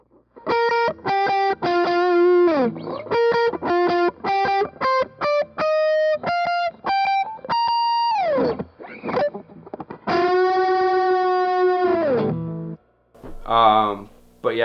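Overdriven electric guitar lead with three drive pedals stacked: loud, close, sustained and saturated, with quick picked notes, held tones and slides, plus a few short gaps between phrases.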